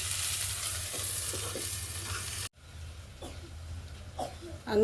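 Potatoes simmer in a covered pot on the stove, giving a soft steady sizzle and bubbling hiss with faint clinks, briefly cut off midway and then resuming close by.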